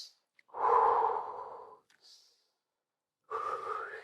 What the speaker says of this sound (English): Practice that breathing, see if you can feel it.